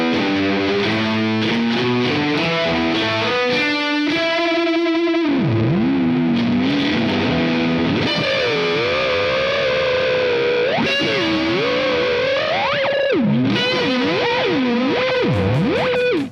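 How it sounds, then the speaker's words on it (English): Roto-Echo delay pedal by Black Mountain Pedals and Third Man Hardware on a loud distorted guitar, notes smearing into repeating echoes and swooping pitch bends as the roller wheel is swept, continuous and without talk. "The Roto-Echo is a delay pedal with an innovative roller wheel foot controller"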